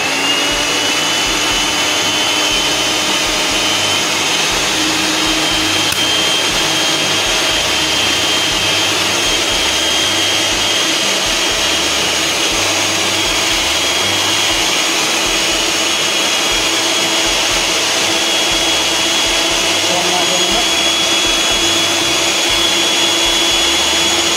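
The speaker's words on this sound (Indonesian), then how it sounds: "Kemudian telur ini kita kocok selama 2 menit sampai mengembang." An electric mixer whips eggs until fluffy for steamed black sticky rice brownies, a continuous loud whirring drone that holds steady and close for the whole stretch with no talk.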